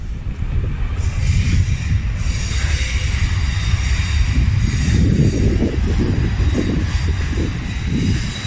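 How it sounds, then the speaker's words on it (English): Trains at Portsmouth Harbour Station rumble and clonk along the wooden pier in a loud, continuous rolling roar, with a high whine overhead and no talking. "Just listen to those trains as they clonk along the pier here."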